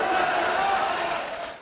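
Supporters cheer at a political rally, a dense, steady crowd roar with massed voices sustained throughout before easing slightly at the end.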